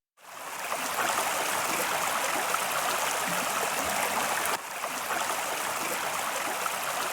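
Water flows steadily in a video game environment, a loud, continuous rushing stream that stays even throughout with only a slight dip partway, and no voices.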